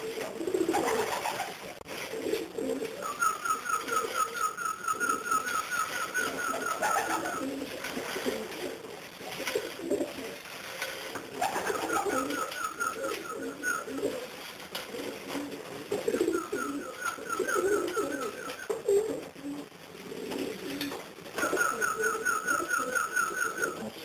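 Racing pigeons coo steadily and repeatedly in a loft, with soft layered calls from several birds overlapping throughout, and occasional brief whistle-like tones rising above the cooing.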